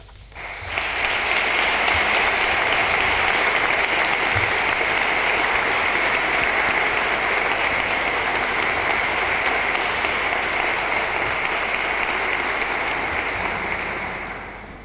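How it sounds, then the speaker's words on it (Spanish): Loud, sustained applause fills a church hall at a Nazareno exaltation event in Algeciras, starting abruptly and continuing evenly for about fourteen seconds before tapering slightly. "rendirle un pequeño pero sincero homenaje con un fuerte aplauso"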